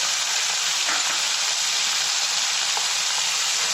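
Cauliflower, potato and green peas sizzle and fry with onions in a pan, a steady loud hiss that runs unbroken throughout with faint stirring scrapes underneath.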